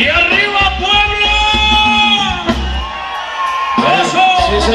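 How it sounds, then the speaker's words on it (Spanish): Crowd at a concert in San Isidro Rancho Yeguas, Tepexi de Rodríguez, erupting in loud shouts, whoops and sustained high whistles, several overlapping cries rising and falling over a few seconds. "ese grito, el chiflido de los hombres"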